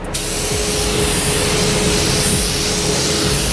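A spray gun lays down a very light second coat of paint, producing a steady, loud, continuous hiss that starts abruptly and holds evenly throughout.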